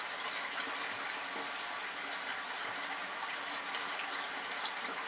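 Prime water conditioner is poured into an aquarium tank during a water change, with a steady, continuous rush of running, gushing water that stays loud and even throughout.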